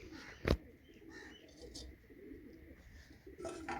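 Pigeons coo faintly in a loft, soft low calls scattered under a sharp near click and light ambient noise, with a murmur of distant voices.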